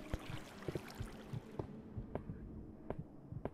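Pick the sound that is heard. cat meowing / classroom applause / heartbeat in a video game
heartbeat in a video game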